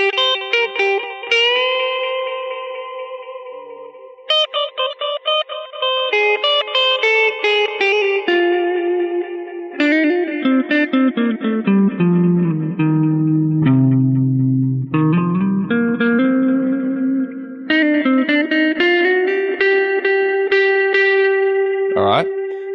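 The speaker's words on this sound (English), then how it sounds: "I'm going to try and do a little bit of old tape versus new tape driven into an amp" An electric guitar played through an Empress Tape Delay set to old tape and driven into an amp gives a melodic single-note line with echoing repeats and a warbling, chorus-like wobble, heard up close and alone with no talking.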